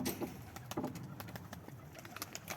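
A pigeon belonging to breeder Mehmet, heard as faint, soft cooing and flutter-like calls close by over a low background.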